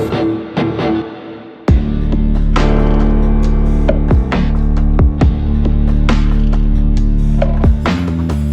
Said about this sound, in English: Let's hear it again with the spanky guitars